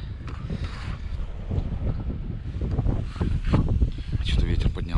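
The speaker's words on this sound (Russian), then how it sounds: "Что-то ветер поднялся." Wind buffets and rumbles against the microphone in uneven gusts, swelling and easing over a low background roar.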